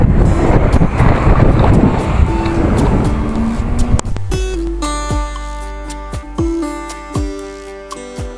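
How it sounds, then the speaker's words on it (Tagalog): Strong wind roars across the microphone during a motorcycle ride on a winding mountain road, loud buffeting for the first half that gives way to engine and road tones. "Lakas ng hangin."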